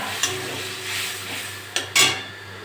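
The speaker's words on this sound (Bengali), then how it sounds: "এটা নেড়ে চেড়ে দেবো। মশলাটা কষে নেবো।" Spice paste with tomato for a bhola fish and potato curry fries in a pan with a broad sizzle, while a utensil scrapes and clanks against the metal in a few bursts.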